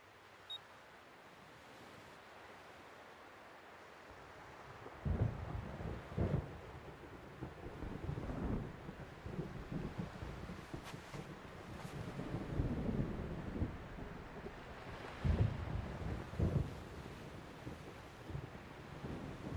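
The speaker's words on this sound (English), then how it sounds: "I hate thunder." Stormy beach weather in the video game Xenosaga Episode I: steady wind roar with crashing surf swells, a quiet start building into louder gusts and rumbling bursts, no speech.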